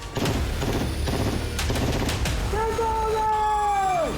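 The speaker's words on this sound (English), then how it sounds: "These are the last bullets." Rapid bursts of gunfire hit a Lamborghini, a loud, dense volley for the first few seconds, followed by sustained tonal sounds with voices over it.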